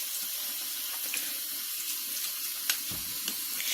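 Tap water running steadily into a sink with dish soap, a close, continuous splashing rush with small drips and clinks scattered through it.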